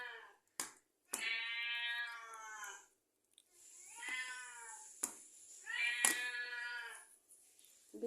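A hungry cat begging for fish lets out three long, insistent meows close to the listener, with short pauses and a few sharp taps between the cries.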